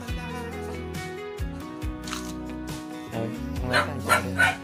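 A dog barks a few times on a morning outing in Da Lat, short yips heard faintly against steady background music.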